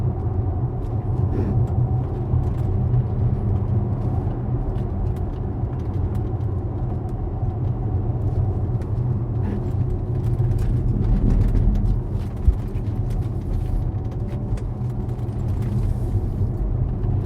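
A Tesla Model S P100D, a heavy electric car of about 2.5 tons, driving through corners, giving a steady low road rumble and tire noise heard from inside the cabin throughout.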